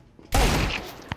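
A Desert Eagle pistol fires in Counter-Strike 2: one sudden, loud, close shot cracks out and rings down over a second, followed by a small sharp click near the end.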